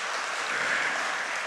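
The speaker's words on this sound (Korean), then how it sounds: "이럴 때 여러분 막 박수가 나오던데요" Congregation in a church clapping during a missionary's sermon, a dense, even wash of applause sustained throughout, fairly loud with no voices over it.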